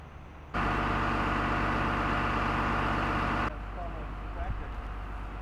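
Loader engine running with a loud, steady low drone for about three seconds that then drops to a quieter rumble, close by, with faint voices underneath.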